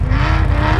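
A car's engine roars loudly and steadily at high revs as it lifts its front wheels on a hill climb, a brief, dense, close blast of engine noise.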